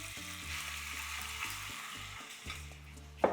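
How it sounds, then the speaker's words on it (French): Thinly sliced beef sizzling in a large pan, a steady faint frying hiss with a few soft stirring scrapes and a sharper clatter at the end. "Pendant que le brocoli cuit, on va faire cuire la viande."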